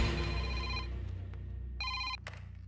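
A telephone rings in an indoor comedy scene with two electronic ringing bursts, a longer one at first and then a short repeat after a pause, over a low background hum.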